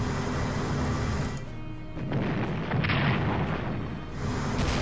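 In the Strategic Command WWII strategy game, a naval attack pits the battleship Nelson against a heavy cruiser, producing loud booming artillery blasts and rumbling explosions that swell and fade with no talking.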